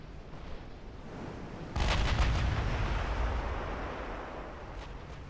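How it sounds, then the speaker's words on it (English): Naval 16-inch guns fire in the warship game Ultimate Admiral Dreadnoughts: a broad constant rumble of battle noise, then a single heavy boom that leaves a long, loud roar fading slowly. "I want those 16-inch guns gone, because they're already starting to hit the target."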